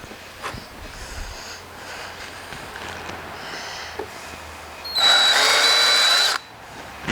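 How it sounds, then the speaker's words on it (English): A power drill countersinks a hole in an MPCNC machine part, with brief whirring bursts and a louder, steady high-pitched drilling run of about a second and a half near the end, over quiet workshop background. "I need to countersink the other one just a little bit more."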